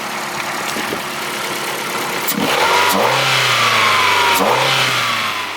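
An abandoned, rotten Ford engine runs on battery power with its belt disconnected, idling steadily and then revving up twice in short bursts, close and loud.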